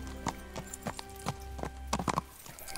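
Horse hooves clip-clop in a steady, evenly spaced rhythm in the video game Kingdom Come: Deliverance, close and moderately loud, over a low continuous hum.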